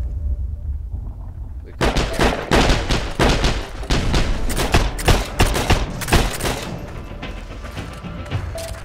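Rapid bursts of close gunfire erupt in the World War II shooter Heroes and Generals after a quiet opening, loud and repeated in uneven volleys over several seconds, with distant shots continuing under the mix.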